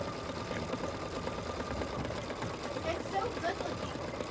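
A Luminaire/Solaris embroidery machine stitches couched letters, its needle mechanism running in a steady, quick mechanical hum and patter at moderate volume for the whole stretch, with no talking.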